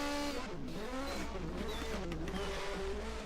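A race car in a racing game laps the Norisring street circuit in a 1980 DRM Division 2 round, its engine droning steadily and rising and falling in pitch through the turns, loud and constant, with narration over it.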